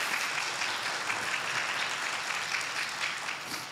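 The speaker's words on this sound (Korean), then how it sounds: "박수로 환영해 주시겠습니다." Congregation at a Sunday church service applauding steadily to welcome visitors, a dense, even wash of clapping throughout with no talk over it.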